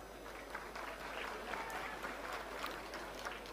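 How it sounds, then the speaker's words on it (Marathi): An audience at a housing lottery draw event claps in sustained applause, a dense, even patter of many hands heard from within the hall, with no speech over it. "आपण इतका वेळ संयमाने बसलो, एकदा जोरदार स्वतःसाठी टाळ्या वाजवूया."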